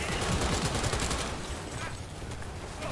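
Rapid gunfire in Cyberpunk 2077 keeps up a dense, loud fusillade of shots across the whole moment, with a little talk faintly mixed in.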